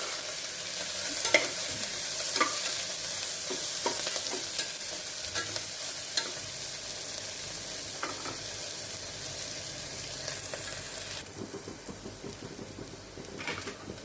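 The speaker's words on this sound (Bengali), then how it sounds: "জিরে ফোড়ন, 1টা শুকনো লঙ্কা ফোড়ন আর এই 2টো তেজপাতা দিয়ে দিলাম। একটু ভাজা ভাজা হোক।" Cumin seeds, one dried red chilli and two bay leaves fry in hot oil, a steady soft sizzle with occasional stirring scrapes, close and alone without voices.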